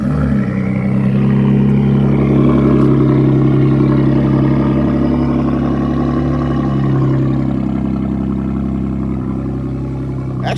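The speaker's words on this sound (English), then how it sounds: "Let's start Queen real quick and wake up the neighborhood" A red turbocharged Ram truck engine runs loud and close, a steady deep idle rumble with strong low harmonics that slowly eases slightly toward the end.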